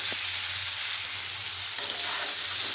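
Peanuts, drumsticks and yardlong beans fry in oil for a vegetarian Bengali dish, a dense steady close-up sizzle with a faint low hum beneath and a brief stir knock.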